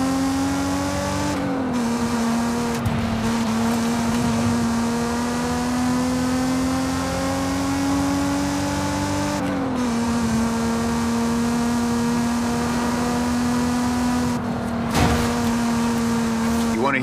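A car engine in the Forza Horizon 5 video game holds a steady, loud drone throughout, dipping briefly a few times as it shifts or lifts off the throttle, with no talk heard.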